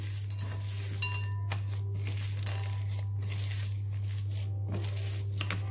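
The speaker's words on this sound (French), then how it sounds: "je vais y verser donc mes pépites de chocolat et je vais mélanger" Milk chocolate chips are stirred by hand into sticky cookie dough in a bowl, producing soft crinkly scraping with intermittent light clinks and taps over a constant low hum.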